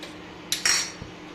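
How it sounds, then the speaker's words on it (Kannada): A metal kadai is set down on a kitchen stove for frying bitter gourd, with two quick metallic clanks close together and a faint knock just after, in an otherwise quiet room. "ಈಗ ಸ್ಟವನ್ನು ಹಚ್ಕೊಂಡು ಒಂದು ಬಾಣಲೆ ಇಡಿ"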